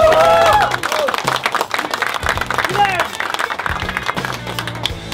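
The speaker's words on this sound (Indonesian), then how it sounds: "Tepuk tangan untuk kita semua." Audience applause at an Indonesian Democratic Party presidential convention press event, a loud burst of clapping that starts strong and tapers into scattered claps while a voice speaks over it.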